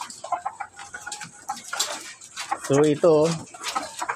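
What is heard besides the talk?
hens clucking on a farm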